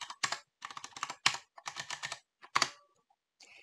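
A card number being typed on a computer keyboard in accounting software, crisp close key clicks in quick clusters with short pauses between groups, ending in a few lighter taps.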